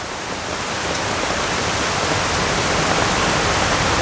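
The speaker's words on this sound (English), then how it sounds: "Been coming down pretty good for like 15 minutes, but it's been raining since yesterday." Steady heavy rain pours down in Samoa, a dense, loud, even hiss of drops on surfaces that holds constant from start to finish with no voices.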